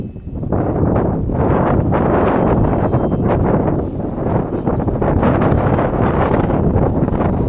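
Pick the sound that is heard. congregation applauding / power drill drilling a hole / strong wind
strong wind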